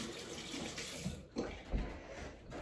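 Tap water running steadily into a sink while a face and a makeup brush are rinsed, with a soft continuous splashing wash and a few louder sloshes near the end.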